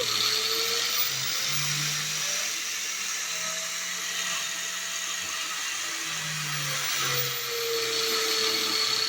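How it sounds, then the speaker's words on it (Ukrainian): A Chinese-made Start Pro angle grinder, a Makita copy, runs at minimum speed through a dimmer, giving a steady whirring motor hum with slowly wavering pitch, close and continuous without talk. "болгарочка у нас, наприклад, китайського виробництва, Start Pro, копія макіти. І регулюємо оберти."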